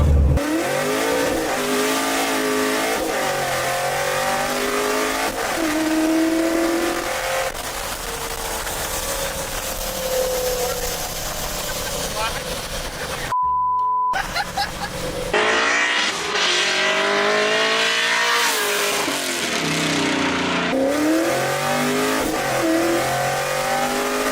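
Chevrolet Camaro accelerating hard, its engine note climbing through repeated gear pulls, loud and close throughout with a brief cut in the middle, then revving up again.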